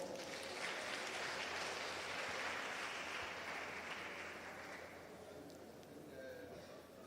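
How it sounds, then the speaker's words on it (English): Audience applause welcoming the Executive Chairperson of the National Youth Development Agency onto a youth-issues panel in South Africa: dense, sustained clapping from a large crowd, steady throughout and easing slightly toward the end, with faint voices underneath. "Dr. Sunshine Miende, with a warm round of applause."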